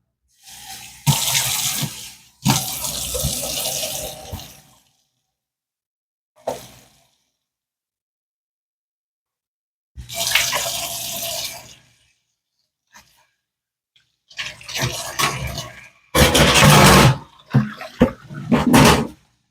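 Tap water runs into a sink in bursts as a cup is filled and washed, with a few long spells of flow broken by silent gaps and short splashes near the end.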